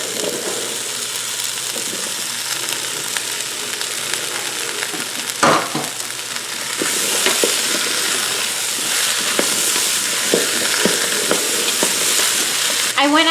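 Celery, onions and peeled potatoes sauté in a Ninja Foodi pressure cooker, making a loud, constant sizzle and hiss with scattered clinks and scrapes of stirring. The sound is close and continuous, and it grows louder partway through.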